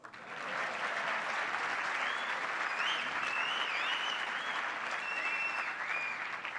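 Sustained applause from a live audience at a business talk, a dense steady wash of many hands clapping for several seconds, with faint whistles and cheers cutting through near the middle and end.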